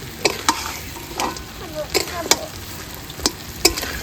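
Duck meat and potatoes stir-fried in a hot pan give a soft continuous sizzle punctuated by repeated sharp scrapes and clacks of the spatula, close and with no talking.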